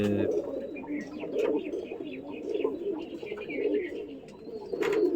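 Pigeons coo continuously in low, throaty rolling calls, several birds overlapping, with faint chirps above; no one speaks.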